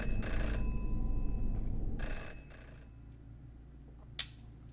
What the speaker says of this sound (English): The phone is winging.